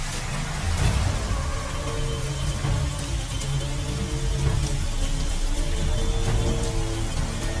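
Heavy rain pours steadily on a dark, moonless night in a dense, unbroken hiss. Low rumbles and a few brief patters sit beneath it, and no one speaks.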